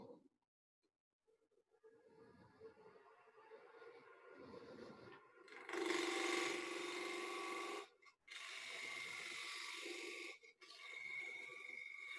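A workpiece spins on a lathe at 2000 RPM while a cutting tool bites in, giving faint scraping and rubbing at first, then louder bursts of rasping cutting in several passes separated by short pauses.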